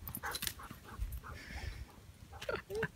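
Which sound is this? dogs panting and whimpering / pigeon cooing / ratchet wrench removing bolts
dogs panting and whimpering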